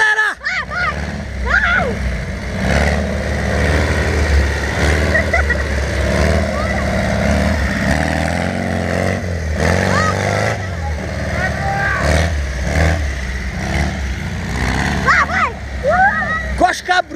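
Dune buggy engine accelerating on a ride through fields, a steady rumbling drone running the whole time under excited shouting from riders.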